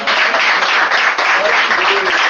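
A church congregation applauds during a worship service: dense, steady clapping that stays loud and even across the whole stretch with no break.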